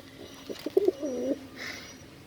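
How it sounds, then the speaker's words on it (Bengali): A Meherpur Giribaz pigeon coos nearby in a short series of soft, throaty pulses that swell into one longer rolling coo, faint and without voices. "দেখুন এটা একটি মেহেরপুরের গিরিবাজ কবুতর"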